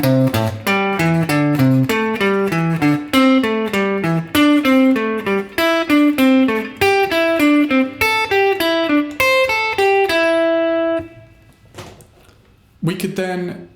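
A guitar runs a quick, unbroken pentatonic sequence of plucked notes in four-note groups, played cleanly and close, then lets a final note ring out and fade before a short burst of noise near the end.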